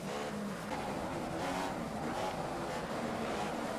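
A Formula One race car in the F1 2015 video game accelerating out of the pit lane on cold tyres at the British Grand Prix, engine droning steadily with rising revs, continuous and close.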